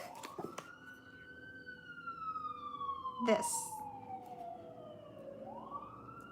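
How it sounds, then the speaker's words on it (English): A police car siren wails in a long falling sweep as the car passes fast, with a brief burst of noise midway and faint talk underneath. "as we hear the police car moving fast."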